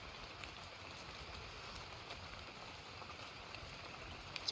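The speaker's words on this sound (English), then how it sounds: "we have got quite the rainstorm going on here" Heavy summer rainstorm beside a drainage stream and culvert, a steady dense hiss of rain pouring down with scattered drop ticks, faint and distant and unbroken throughout, no voices.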